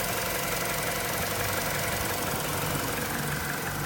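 A 2007 Mini Cooper's 1.6 BMW engine idles steadily, a faint, even rumble with a slight knocking texture heard close and alone.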